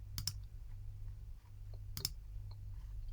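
Two crisp computer mouse clicks, spaced about two seconds apart, sound close and quiet over a low steady hum while software is being operated.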